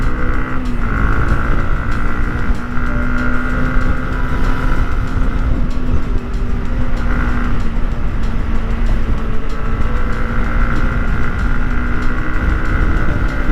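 A Yamaha MT-15 motorcycle engine drones steadily at high revs around 7,000 RPM with VVA active, its loud, sustained whine rising and easing slightly as it pulls hard.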